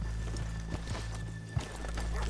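Horse hooves clip-clop in Red Dead Redemption 2 as horses are left off a rainy main street, a few sharp, separate clops close by over a steady low background hum.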